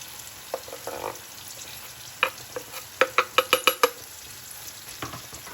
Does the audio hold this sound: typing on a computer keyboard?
no